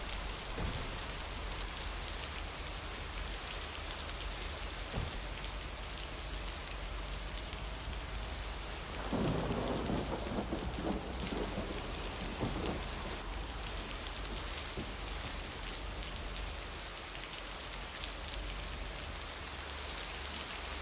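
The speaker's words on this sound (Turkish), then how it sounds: "ne yağmur yağdı ya" Steady, dense rainfall pours throughout a rainy scene in the video game Lake, with a heavier, rumbling swell around the middle that suggests distant thunder; no voices.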